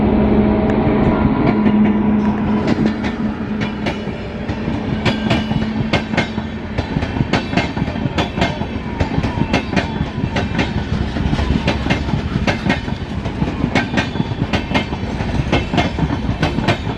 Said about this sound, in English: Did you notice the train slowing down?